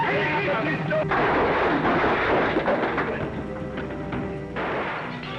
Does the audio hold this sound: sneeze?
no